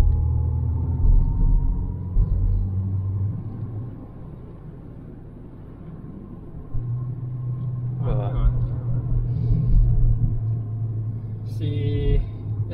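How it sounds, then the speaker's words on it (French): A Citroën XM V6 engine drones with a low, steady rumble from inside the car while driving, and a voice speaks briefly over it midway and near the end. "on pourrait même ouvrir un peu la vitre pour entendre le bruit du moteur"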